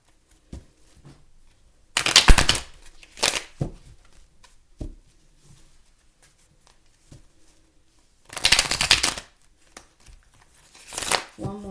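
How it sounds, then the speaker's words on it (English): Cards are shuffled in two quick riffling bursts, separated by quieter handling and a few soft taps. "I'm gonna just do a couple of shuffles and then we'll get into it"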